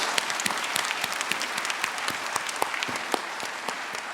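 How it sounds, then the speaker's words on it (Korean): Church congregation applauds loudly during a worship service, a dense, steady roar of many hands clapping with sharp individual claps standing out, continuing throughout without speech. "저 소리 들으시면 큰 박수 쳐주세요"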